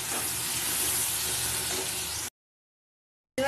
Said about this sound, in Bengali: এবার ভালো করে আমি নাড়াচাড়া করে নেবো ঢ্যাঁড়স আর আলুগুলোকে